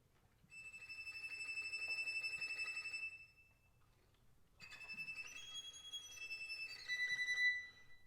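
A violin imitates a penguin's call with high, thin, sustained squeaky tones, then sliding, wavering notes after a short pause, faint and alone.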